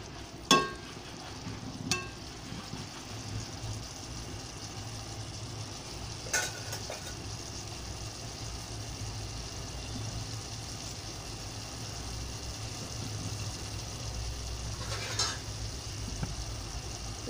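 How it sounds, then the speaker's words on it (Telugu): Prawns frying in a pan for a prawn curry, a steady soft sizzle running throughout with a few brief clinks of stirring against the pan, no talking. "ఇంకా ప్లేట్ మూత వేసుకొని పచ్చివాసన పోయేంత వరకు వేయించుకోవాలండి."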